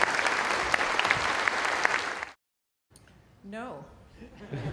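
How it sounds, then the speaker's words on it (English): Audience applause for a panel at an alternative-medicine talk event, loud and dense for about two seconds, then cutting to silence before a voice speaks over faint room noise. "Round of applause for our great panel."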